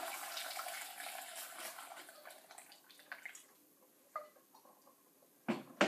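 Homemade chicken stock poured through a strainer for chicken and sweet corn soup, a close, steady stream of liquid that gradually thins out and ends in a few sharp clinks and splashes.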